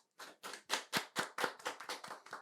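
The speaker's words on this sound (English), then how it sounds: "Can we get a round of applause for Jeff Nadeau?" A single pair of hands gives a brief, close round of applause, about ten sharp claps at an even, brisk pace.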